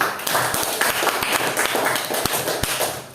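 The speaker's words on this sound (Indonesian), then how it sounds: "kita beri aplaus untuk kelompok 1" A small group claps for a presenting student team during a classroom lesson, scattered uneven hand claps and taps, fairly close and brief, with no talking.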